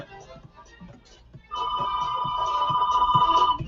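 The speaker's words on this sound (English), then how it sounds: "And my phone's ringing again." A phone ringing indoors, a steady electronic tone that starts abruptly and holds for about two seconds, with faint talk underneath before it begins.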